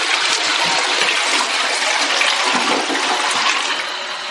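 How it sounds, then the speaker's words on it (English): A newly installed toilet flushes with a loud, steady rush of water close by, the gush continuing for several seconds and easing slightly at the end. "Test flushing it."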